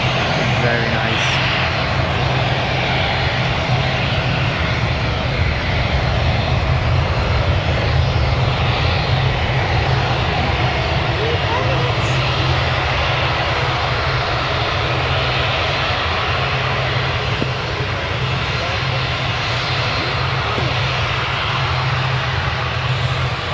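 A fixed-wing airliner lands at Newcastle Airport, its engine roar steady and loud, filling the whole stretch as a broad continuous rumble with someone talking over it.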